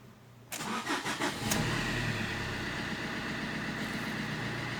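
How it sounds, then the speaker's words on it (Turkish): A Fiat Linea 1.3 Multijet diesel car cranks briefly and fires up, then settles into a steady, loud, close diesel idle that continues to the end. "Evet marşa basıyorum."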